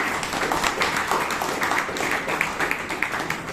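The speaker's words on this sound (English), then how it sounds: "So for Toastmaster Kalakman, just give him one good round of applause" A steady round of applause from a crowd at a Toastmasters meeting, dense clapping throughout without a break.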